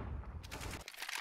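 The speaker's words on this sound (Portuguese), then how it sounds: "Puxa, errei o tiro." Gunfire in a video game during an online match: a dense, loud burst of rapid shots lasting about a second, with no talking.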